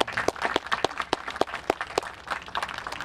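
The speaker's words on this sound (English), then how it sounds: "So how about a round of applause for Ken and his crew." Applause at a wastewater treatment plant dedication ceremony, a smaller gathering giving uneven, distinct claps close by, with individual hand strikes clearly separated rather than blending into a wash.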